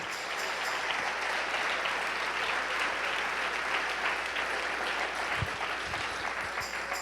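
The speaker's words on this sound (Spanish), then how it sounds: "Dale ese aplauso al Rey." A church congregation applauds during a sermon, sustained dense clapping at an even, loud level for several seconds.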